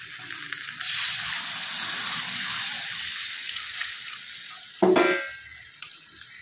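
Gravy being poured over chicken and potatoes frying in a pan, a steady sizzling hiss that bursts with a sharp louder splash of liquid partway through before settling again.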